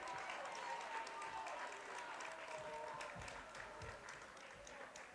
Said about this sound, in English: The hustle from Jaden Robb does draw a round of applause from the Aitkin student section tonight